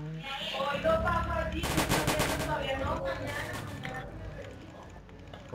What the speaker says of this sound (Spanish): ¿Por qué escucho disparos?